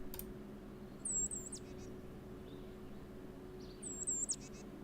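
Tufted titmouse calls twice, short high whistled notes about three seconds apart, fairly clear over a steady low hum of background noise.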